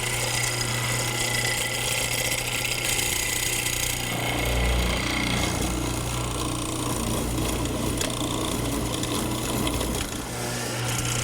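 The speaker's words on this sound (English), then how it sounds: "the mortiser would be working very hard" A mortiser chops a mortise into wood with a steady, loud, continuous mechanical hammering drone that holds unbroken throughout, alone without talk.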